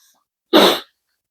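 One short, sharp sneeze bursts out close by, lasting under half a second, with silence before and after.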